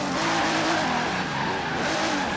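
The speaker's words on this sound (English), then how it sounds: "Let's see how this thing drifts in a parking lot." A Pagani Huayra BC hypercar in Forza Horizon 3 drifts around a parking lot, its engine roaring steadily with wavering pitch and tire noise throughout, loud and continuous with no talk.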